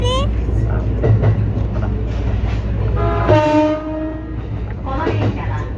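A Musashino Line train rumbles along in Japan, heard from on board with a steady, loud low roar. Faint clatter and tonal whines sit over the rumble, and a voice speaks briefly.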